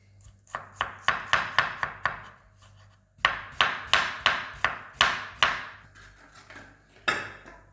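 A knife chops onions on a board for Uzbek pilaf. Two quick runs of sharp, close chops are split by a short pause, and a single final cut follows after a longer gap.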